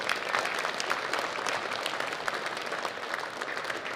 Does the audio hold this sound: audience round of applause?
yes